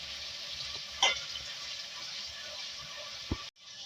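Green chili paste for a kale chana gravy cooks in a pan with a soft, steady sizzle, broken by a brief stirring clatter near the start and a sharp knock just before it cuts off.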